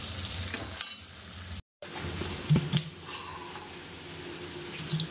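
Paneer frying in a pan sizzles softly and steadily at close range, broken by a brief silent gap and a few light clinks of a utensil.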